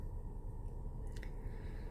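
Flowing stream water near Donghaksa temple in Gongju gives a steady, continuous rushing wash with no voices, with a faint brief splash about midway.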